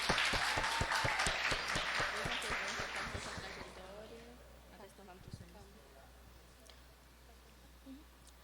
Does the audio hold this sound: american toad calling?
no